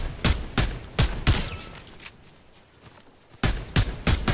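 Bursts of video game gunfire ring out in two clusters of sharp, loud shots, a quieter lull between them, with no talking over the shots.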